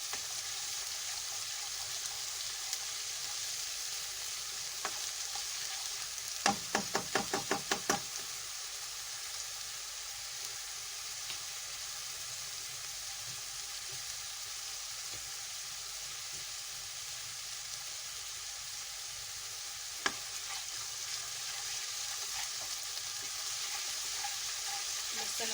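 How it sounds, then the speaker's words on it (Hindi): A low, steady sizzle of garlic ginger paste frying in a pan, with a brief burst of stirring scrapes and an occasional knock of a spoon. "लहसुन अदरक के पेस्ट को अच्छे से भूनना है हमें, कच्चा ना रह जाए लहसुन अदरक का पेस्ट।"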